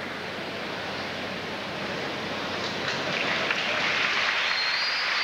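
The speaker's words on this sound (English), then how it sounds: "Nice round of applause for Tony Bade from Mundelein" Crowd in a gymnasium at a high school boys gymnastics state final applauding an injured gymnast being helped off the floor, a broad, steady wash of distant clapping that swells slightly and continues throughout.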